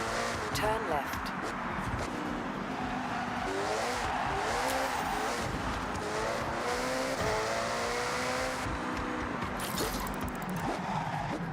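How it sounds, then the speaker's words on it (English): A hybrid car in Forza Horizon drives hard with a rising and falling engine whine and repeated tire squeals through turns, steady and close, with a voice talking over it. "This is a hybrid car"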